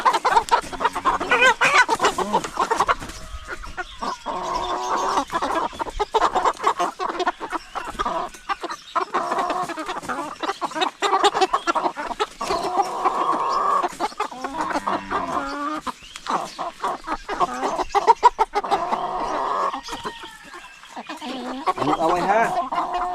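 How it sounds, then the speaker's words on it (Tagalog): Several chickens cluck and squawk busily close by, with occasional louder calls from about three roosters, a lively, continuous farmyard chatter. "Parang tatlo yung lalaki sa ating mga manok oh."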